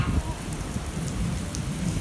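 Heavy rain pours down in a rural Punjab village, a dense, steady hiss of drops hitting surfaces close by, with no clear voices over it.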